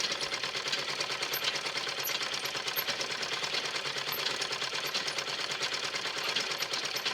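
A sewing machine runs continuously during a sewing training session, its fast, even stitching whir holding steady and close throughout with no pauses.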